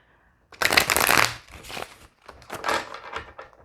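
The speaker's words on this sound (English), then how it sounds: "We're going to continue to shuffle" Tarot cards are shuffled in a few close, crisp bursts of riffling and rustling, one long flurry followed by shorter ones, with no voices.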